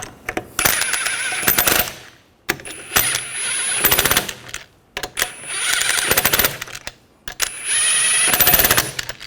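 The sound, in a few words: lug nuts being snugged down on a Ford Escape wheel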